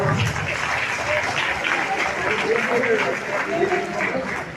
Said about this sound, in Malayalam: വലിയ കയ്യടി കൊടുക്കണം